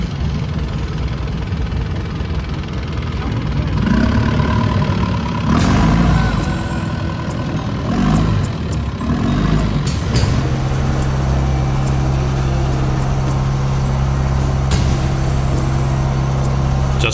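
Engines of wooden longtail boats on the southern coast of Thailand near Ao Nang, a rough droning roar that swells and shifts, then settles into a steady, close, low hum.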